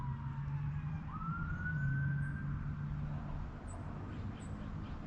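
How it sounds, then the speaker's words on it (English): A distant siren rises and holds a long wailing tone over steady low traffic rumble, faint and continuous throughout. "That sounds like a cop car."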